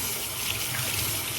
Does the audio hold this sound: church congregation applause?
no